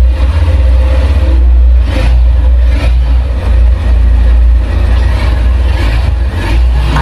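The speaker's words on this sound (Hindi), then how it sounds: "आइए अब मैं आपको इसके इंजन का साउंड सुनाता हूं और इसका एग्जॉस्ट नोट भी सुनाता हूं।" A 160cc motorcycle engine runs steadily close to the microphone, its loud low idle rumble and exhaust note continuous with a few brief blips of throttle.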